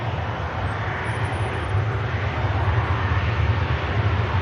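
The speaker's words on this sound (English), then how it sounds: "Dreamliner on the takeoff roll." A Virgin Atlantic Dreamliner on its takeoff roll at Manchester Airport, a loud, continuous deep engine roar with broad rushing noise, steady and building slightly, with no speech.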